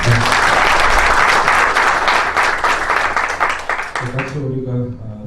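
A seminar audience gives loud, dense applause that holds steady before thinning out, with a voice coming in over the tail.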